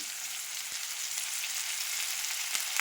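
Mint leaves fry with tomatoes in a pan, giving a soft, steady hiss of sizzling with faint occasional pops, close and continuous with no talk.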